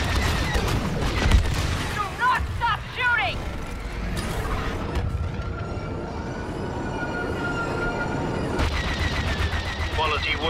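Blaster and gunfire from Star Wars Battlefront 2 rattle in dense bursts with whooshing effects and game ambience, while a voice talks over the action.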